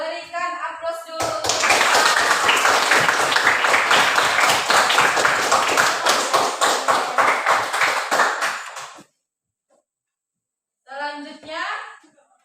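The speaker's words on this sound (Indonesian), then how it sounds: "Berikan aplaus dulu." Audience applause after a classroom presentation, a dense burst of clapping that runs for several seconds and then stops, with voices talking briefly before and after.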